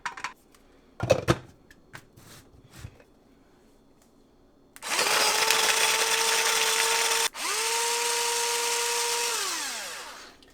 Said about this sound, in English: put them in my little food processor to get those chopped up